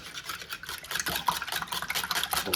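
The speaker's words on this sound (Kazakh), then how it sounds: "Араластырайын." A utensil stirs thirteen cracked eggs in a bowl for egg pastry, a steady rapid scraping and swishing close by, with no talk.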